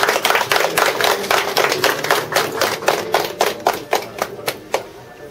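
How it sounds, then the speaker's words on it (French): An audience applauds the newly installed governor of Conakry at a handover ceremony. A steady run of close, sharp hand claps tapers into slower, sparser claps toward the end. "Veuillez l'applaudir."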